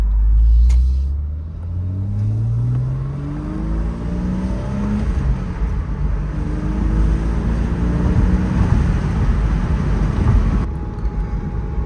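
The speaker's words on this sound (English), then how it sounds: "It's fun being out with the top down and listening to the engine." A 2001 Porsche Boxster's engine drones steadily while driving with the top down, a loud close rumble whose pitch climbs as it accelerates, then holds a sustained road roar with wind.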